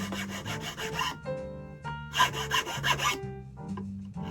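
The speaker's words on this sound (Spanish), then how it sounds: "El limado tiene que ser recto y parejo" A file and sandpaper work the notch of a bamboo quena flute in rhythmic scraping strokes, rough rasping bursts alternating with brief pauses, close and alone.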